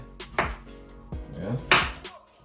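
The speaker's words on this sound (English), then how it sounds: "I'm cutting up the yam" A kitchen knife chopping through yam on a board, three distinct sharp thunks spaced unevenly, close and clear with no talk.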